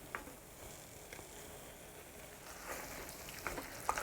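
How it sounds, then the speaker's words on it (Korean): Pre-grilled beef dropped into curry paste in a pan for a simple beef curry, giving a low steady sizzle with scattered crackles and pops near the end, close and fairly quiet, no talking. "이제 미리 구워둔 고기를 넣어 줄게요."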